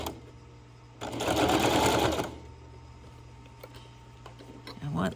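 A sewing machine stitches along a sew line in one short, fast whirring burst of about a second, followed by quiet clicks and fabric handling nearby, with a voice faintly present.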